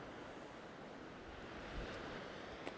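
Wind blows steadily outdoors, a faint, even rushing noise with a slight low buffeting on the microphone and no voices.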